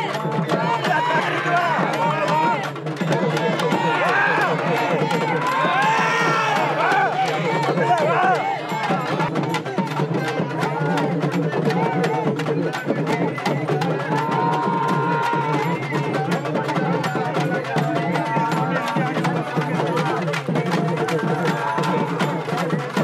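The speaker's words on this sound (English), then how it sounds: "The drums get louder and the entire crowd starts to chant." At a Thaipusam procession, rapid steady drumming pounds on without pause while a dense crowd chants together, loud and close throughout.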